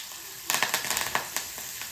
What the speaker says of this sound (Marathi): हे थोडंसं असं खमंग परतून घेतोय आपण